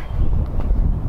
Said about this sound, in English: Sorry about the wind if you can hear it.